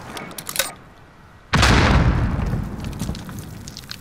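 A spawn tube fired in the Modern Warfare video game on the Cheshire Park map: a few light clicks, then a sudden loud boom-like launch that rumbles and slowly decays, close and alone without talk.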